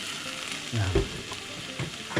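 Garlic scapes sauté in a pan with soy sauce as a utensil stirs them, giving a steady close sizzle with scraping stir strokes and a brief louder splash of liquid partway through.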